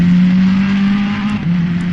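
Ferrari GT3 race car engine in Assetto Corsa Competizione, the number 14 black and yellow car, holding a loud steady drone that dips slightly in pitch near the end, close and continuous with no talk.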